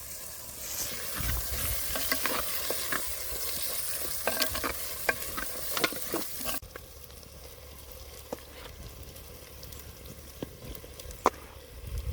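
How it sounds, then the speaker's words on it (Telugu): Chicken pieces added to cooked tomatoes sizzle loudly in a hot pan with stirring scrapes, then the frying settles into a quieter, steady crackle with occasional clinks. "ఇప్పుడు సౌండ్ వస్తుంది చికెన్ వేసుకుందాం"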